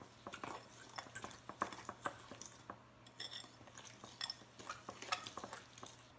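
Cake batter being mixed with vanilla extract, a utensil repeatedly tapping and scraping against a bowl in an irregular, close, fairly quiet rhythm of clinks and wet stirring.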